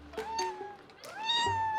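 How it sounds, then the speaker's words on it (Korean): A friendly stray cat on the street meows close by, with several drawn-out, rising and falling meows over about two seconds. "얘 우리 버스까지 따라오면 고양이 사료 주고 싶다."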